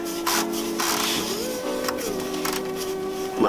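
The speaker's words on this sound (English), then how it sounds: "give it a nice quick little tighten with the ratchet" A ratchet snugs down the oil drain plug on a Mk6 Golf R, giving short close-up rasping clicks and scrapes with shifting tone over a few seconds, with faint voices in the background.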